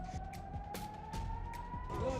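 Emergency sirens wail after a ballistic missile strike on the city of Arad, a rising tone carried over a dense din of rumbling and scattered voices.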